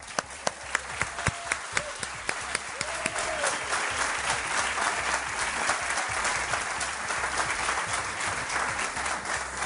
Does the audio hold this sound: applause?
yes